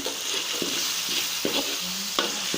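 Frying sizzle fills the background while a utensil scrapes and stirs chopped tomatoes and spices through a pan in several distinct strokes, close by.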